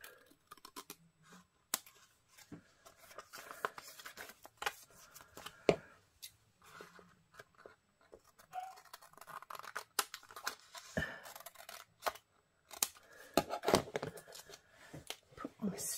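Scissors trim along paper strips in a quick series of soft, close snips and papery rustles, quiet and irregular, with someone talking at times.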